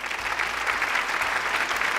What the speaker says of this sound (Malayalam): നല്ലൊരു കയ്യടി.